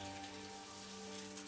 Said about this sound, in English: Is it rain? No, it's the shower.